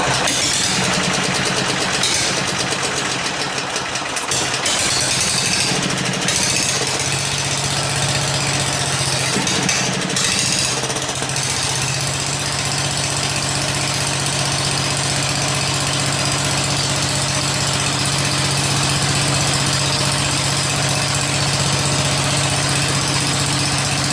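A 63-year-old Briggs and Stratton engine drives an RCA generator, running steadily with the choke off, a loud continuous idling drone with a low hum and some rattling vibration throughout, no talk.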